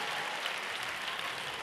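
A crowd in an arena applauds a women's gymnastics floor routine at a World Challenge Cup, a dense, steady wash of clapping that carries on evenly without pauses.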